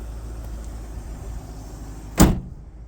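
Single solid thump of the hood slamming shut on a TOM'S Racing supercharged V8 Toyota Celsior, loud and close, after a quiet idle background.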